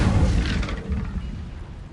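The Incendio fire spell cast in the video game Hogwarts Legacy, a single loud whooshing burst that decays over about two seconds.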